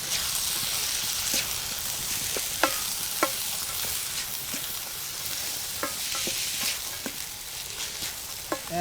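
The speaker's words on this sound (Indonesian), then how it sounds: "Kita aduk teman-teman." Dragon scale leaves frying in a pan, stirred with a utensil: a steady bright sizzle throughout, broken by light scraping clicks and taps against the pan at irregular intervals.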